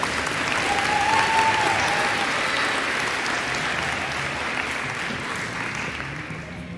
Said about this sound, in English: let's give one more round of applause for girls basketball